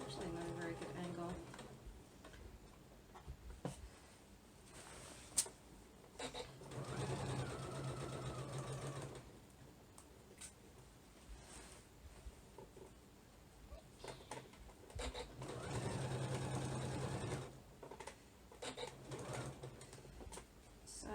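A sewing machine stitches the seam of a double-breasted shirtdress in two short bursts of soft, rapid whirring, with quiet fabric handling and shuffling between them and a few brief spoken words.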